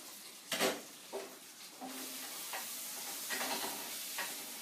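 Chopped leeks sizzle and brown in a pan with a steady, faint frying hiss, broken by several soft spatula stirs and scrapes spaced a second or so apart; nobody speaks.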